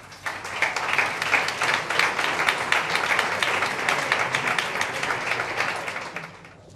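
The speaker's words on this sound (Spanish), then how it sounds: "Un aplauso, por favor." An audience at a book presentation in Vélez-Málaga claps, dense applause swelling quickly and holding steady for several seconds before fading.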